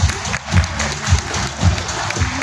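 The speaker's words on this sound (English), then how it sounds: "Everyone give a round of applause to Mr." An indoor audience at a corporate event applauds after a speaker is introduced, a dense burst of clapping with rhythmic swells, fairly close and loud.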